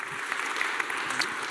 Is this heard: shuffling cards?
no